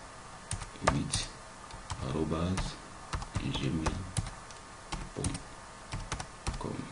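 Typing an email address on a computer keyboard gives quick, light key clicks in short bursts, close by, while a person talks over them.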